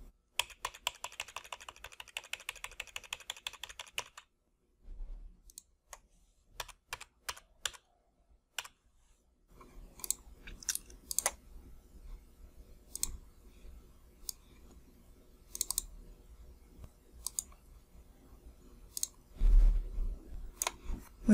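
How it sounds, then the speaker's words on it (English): Arrow keys tapped on a computer keyboard, a burst of rapid clicks followed by sparse single and paired presses spread over the rest of the stretch, close and fairly quiet with no talk. "I will use the arrow keys on my keyboard to move the text over."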